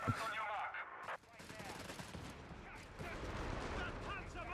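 An LG-40 recoilless rifle fires in a Company of Heroes 3 match, giving a sharp opening blast followed by dense, rolling battle gunfire and distant impacts that continue throughout, moderately loud in a busy soundscape.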